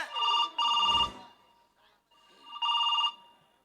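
A telephone rings during a Kolar folk comedy stage play, sounding two fairly faint bursts of a trilling ring separated by a pause, with a short trailing ring at the start and voices in between.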